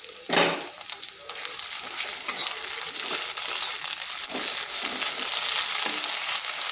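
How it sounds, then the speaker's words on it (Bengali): Ginger garlic paste and a green chili fry in a pan with softened onion, giving a steady, dense sizzle with occasional stirring scrapes throughout. "আদাটা একটু ভেজে নিচ্ছি।"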